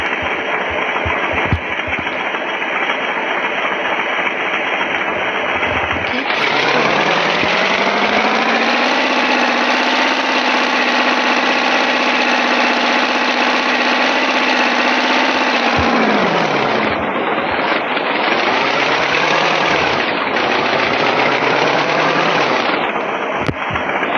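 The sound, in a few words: boat engine in the video game Roblox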